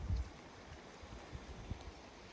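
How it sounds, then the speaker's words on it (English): Steady rushing flow of the Karanga River on the slopes of Mount Kilimanjaro, a continuous broad wash with low gurgles and occasional knocks, moderately quiet and without voices. "So this water that you hear all flows down into the main town"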